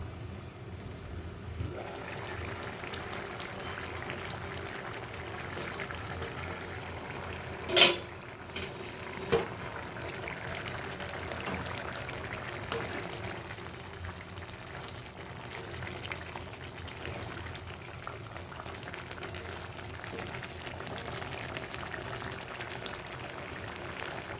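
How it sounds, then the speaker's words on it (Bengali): Potatoes, pointed gourd and prawns cook in a covered wok, giving a faint, steady low simmer with soft bubbling, broken by a few brief clinks, with no talking. "মাছগুলো দেওয়ার পর আমি কড়াইটাকে আবার ঢেকে দেবো আলুগুলো সিদ্ধ হওয়া পর্যন্ত"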